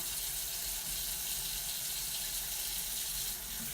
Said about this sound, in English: We're going to stare at water while it heats up.